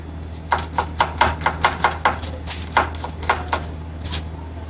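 A knife roughly chops a garlic clove on a board in a quick run of about a dozen crisp, close taps, unevenly spaced, with brief pauses and a final separated stroke.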